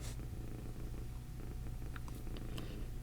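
A cat purrs steadily and softly up close, a low continuous rumbling drone with a few faint background ticks, no talking.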